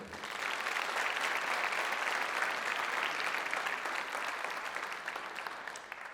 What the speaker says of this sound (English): Let's give a final round of applause to these members